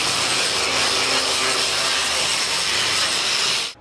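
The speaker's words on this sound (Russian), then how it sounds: "Вспышки сварки и искры от болгарки." An angle grinder works on metal parts of municipal special vehicles in a garage, a loud, continuous high-pitched whine and grind that cuts off abruptly at the end.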